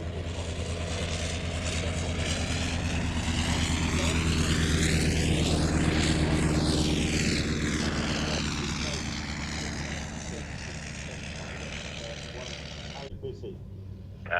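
Grumman Wildcat fighters taxiing in formation at the Fly Navy airshow at Shuttleworth, their radial piston engines droning steadily and swelling as they pass close by, with a continuous rumbling growl throughout.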